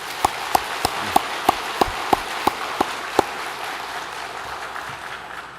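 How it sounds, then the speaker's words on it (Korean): A church congregation at Sunday worship claps in unison for the choir: about eleven sharp, evenly spaced claps over a quiet room hum, then the clapping stops. "찬양대 위에 크게 한번 박수 한번 치고"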